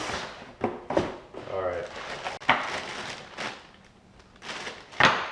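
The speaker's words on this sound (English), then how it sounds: "Let's open this box up." Cardboard shipping box for an Amazon Primeweld CT-520D welder being opened up close, with scattered rustling, tearing and thumping bursts alongside occasional speech.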